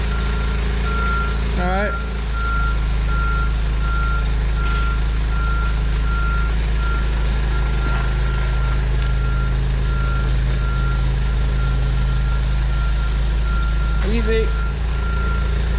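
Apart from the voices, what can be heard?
Cat D7F dozer reversing beeps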